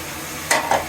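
Onion is tipped into a pan of frying chicken and stirred, giving two brief scraping bursts over a soft sizzle.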